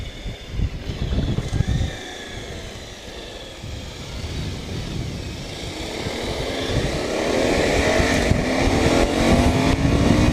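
A motorcycle with sidecar drives just ahead while riding along a road, a continuous engine drone that grows louder and rises in pitch toward the end, with no talk.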